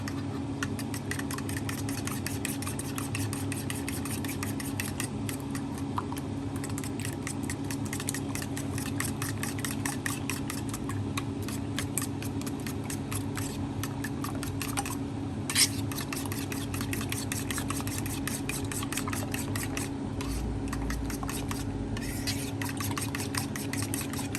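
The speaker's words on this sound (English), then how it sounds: "Then we're going to just start getting those all scrambled in the pan. In the bowl with your fork." A fork whisks eggs in a bowl for breakfast scrambled eggs, a fast, even stream of faint clicking strokes that continues steadily and close by, with no talking.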